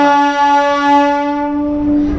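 A Howrah–Digha local train on the main line sounds a long, loud, steady horn blast nearby, with rail rumble beneath it as the horn fades out.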